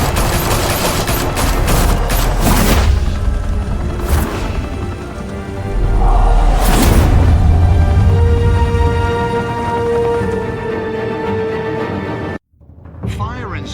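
A shootout from the video game Batman: The Telltale Series: loud bursts of gunfire crack out in several volleys over a dense bed of music and voices.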